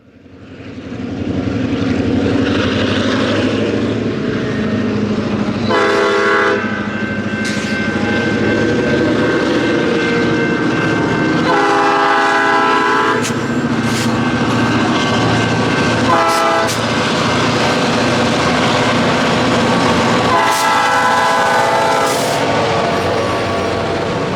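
A Boundary Trails Railway train locomotive throttles up while leaving town, a loud, sustained engine roar with rumbling wheels and repeated horn blasts sounding over it.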